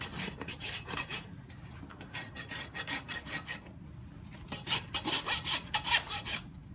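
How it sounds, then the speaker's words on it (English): Rasp scraping back and forth across a glue-on composite horseshoe surface on a laminitic mare's hoof, a close, steady series of rough rhythmic strokes with no talking. "Clean my shoe surface off with my rasp so it's a fresh, clean surface."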